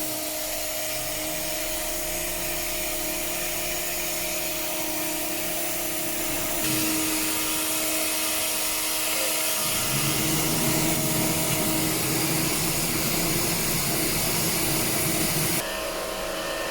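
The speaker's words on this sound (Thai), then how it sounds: "ช่างจัดการฉีดล้างความสะอาดแผงแอร์หน้ารถให้ค่ะ" A pressure water spray washes the front air conditioner condenser of a Honda City with 376,613 km, a loud, continuous hiss and whine that shifts in pitch as the nozzle moves, close and with no talking.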